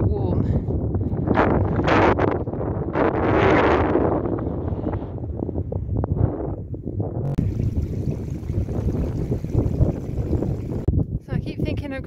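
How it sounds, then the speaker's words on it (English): Strong wind roars across an exposed fell top on the Pennine Way near Great Dun Fell and Cross Fell, heavy gusts buffeting the microphone in loud surges, with a voice talking under it later. "It's very windy up here."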